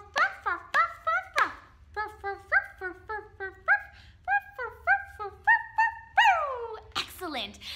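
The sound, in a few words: children imitating a dog barking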